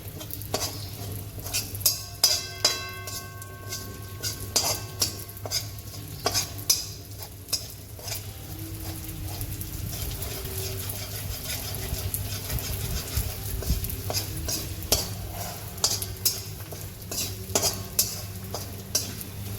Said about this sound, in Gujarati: ગુંદ આપણો શેકાઈ ગયો છે, કાઢી લઈશું